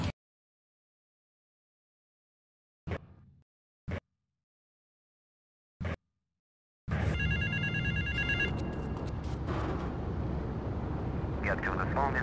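A payphone in the video game GTA III rings with a few short, separated bursts, followed by a long, dense stretch of loud, continuous game sound.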